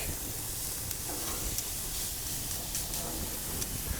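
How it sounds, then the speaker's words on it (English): A filet mignon steak hisses on a grill as it is turned, a steady, moderate sizzle and crackle with a few soft taps of tongs, no talking over it. "Now I'm going to turn my steak."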